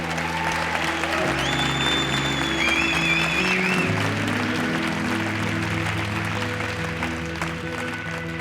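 A studio audience applauds steadily and loudly for the whole stretch, with a dense even wash of clapping and faint music tones drifting underneath.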